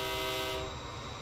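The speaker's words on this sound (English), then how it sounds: "What's the horn like on this one?" A New Jersey Transit locomotive horn in Train Simulator 2020 sounds one sustained, harmonic chord that is loud and steady, cuts off partway through, and leaves a lower rumble behind.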